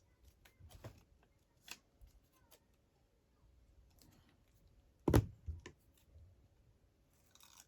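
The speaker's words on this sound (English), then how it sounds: "Using these big scissors just to go a bit faster." Big scissors cut paper leaves for library card pockets, giving faint, sparse snips and crisp crunches, with one sharper, louder snip in the middle against a quiet room.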